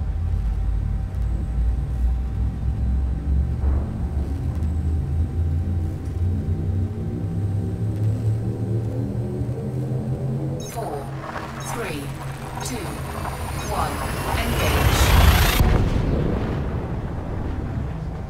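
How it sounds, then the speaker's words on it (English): A spaceship's frame shift drive in Elite Dangerous charges with a deep rumbling drone and rising tones, then surges into a roaring, rushing hyperspace jump that swells loudly near the end. "Frameshift drive charging."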